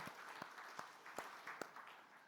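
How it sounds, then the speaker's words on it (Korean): A Sunday worship congregation applauding, a faint, sparse patter of hand claps with a few distinct sharp claps, heard from a distance. "여러분 이왕 치려면은 박수를 세게 치세요"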